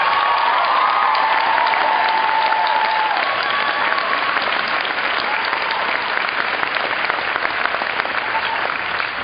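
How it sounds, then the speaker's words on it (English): Sustained audience applause for the staff at the Hampshire College commencement ceremony, a dense, steady roar of clapping from a large crowd that fills the clip with no voices over it. "Round of applause for the staff."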